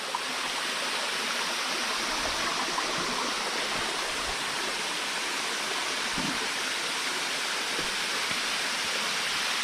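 Steady, dense rush of stream water flowing near a large balete tree, a continuous close hiss with no pauses and no voices.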